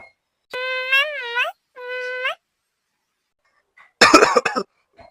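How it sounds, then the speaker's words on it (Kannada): A person who is coughing up blood gives a short burst of harsh, close coughs near the end, after some drawn-out voiced vocal sounds earlier and quiet gaps. "ಯಾಕಪ್ಪ ಇಷ್ಟೊಂದು ಕೆಮ್ಮು ಬರ್ತೈತಿ ಇವತ್ತು?"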